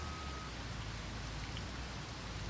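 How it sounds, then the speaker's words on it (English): Steady rain falls in a farming video game, a continuous even hiss of downpour at moderate level with no other sounds. "it's not supposed to be raining now"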